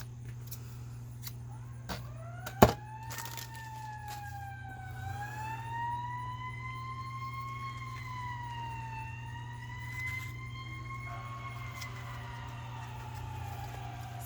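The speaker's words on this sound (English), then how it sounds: "Sorry about the sirens." A wailing siren rises and falls steadily in the distance over a constant low hum, with a single sharp knock near the start.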